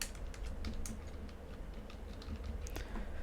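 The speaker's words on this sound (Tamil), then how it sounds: "கிளிக் பண்ணிட்டு மெஷர்ஸ்ன்னு டைப் பண்ணிக்கோங்க" Computer keyboard typing at a desk, a fairly steady run of light clicking keystrokes at close range with no talk.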